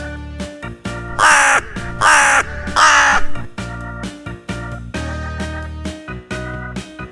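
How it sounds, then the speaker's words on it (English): A crow cawing loudly and close, three harsh, drawn-out caws in quick succession, with softer tonal sounds running underneath. "Crow."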